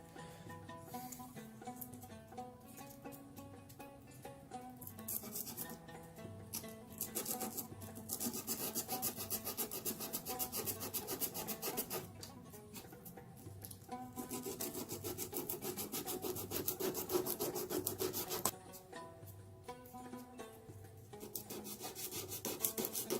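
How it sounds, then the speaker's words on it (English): Continuous rough rubbing and rasping as sandpaper works back and forth over a wooden fretless guitar neck, steady strokes with brief changes in pressure and pace. "So I'm gonna go ahead and start sanding here."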